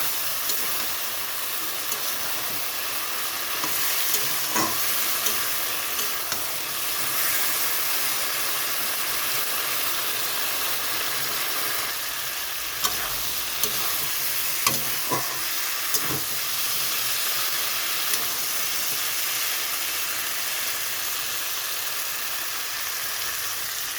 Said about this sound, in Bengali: এখানে একটু জল দিয়ে দিচ্ছি মশলাটা ভালো মতন কষানোর জন্য।